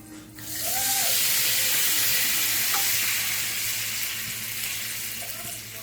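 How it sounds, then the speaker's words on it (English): A loud, steady sizzle of liquid deglazing a hot pan after searing fish steaks, with scraping clatter near the start and a continuous hiss that slowly eases. "Now we deglaze."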